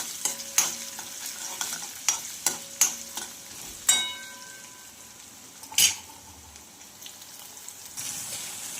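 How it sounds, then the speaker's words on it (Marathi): Ginger and garlic fry in oil with a steady low sizzle, broken by sharp clinks and scrapes of a stirring spoon against the pan, several taps in a row then a louder scrape, with no talking. "आला आणि लसूण छान पैकी असं फ्राय झालेलं आहे"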